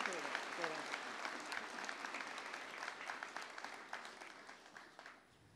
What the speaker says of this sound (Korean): 다 함께 큰 박수 보내주시기 바랍니다.